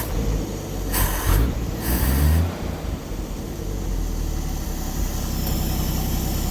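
A 1957 Chevrolet 150 engine, just woken after 40 years parked, idles loud and close with a steady low rumble, briefly swelling in a couple of uneven surges early on.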